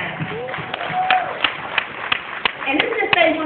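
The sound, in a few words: audience applause in a room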